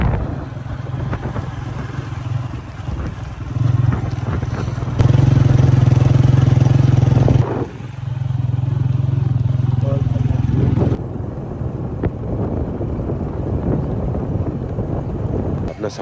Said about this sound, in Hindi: हम जा रहे हैं बाइक के ऊपर, और अब तो बेस्ट राइड।